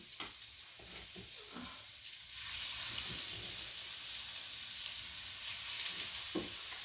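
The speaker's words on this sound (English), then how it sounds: "There's a sizzle" Pork chops sizzle in a hot frying pan, a steady broadband hiss that swells louder partway through and holds, close and continuous with no talk.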